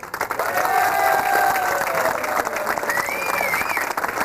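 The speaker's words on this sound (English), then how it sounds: "Let's give them a round of applause." An audience at a banquet for the 1991 2WD off-road RC car world championships breaks into sustained applause, a dense steady clatter of many hands with scattered cheers, loud and close.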